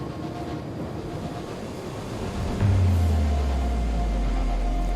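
A train pulls into the Bond Street station platform, its low rumble swelling midway into a loud, steady mechanical drone over ongoing ambient noise.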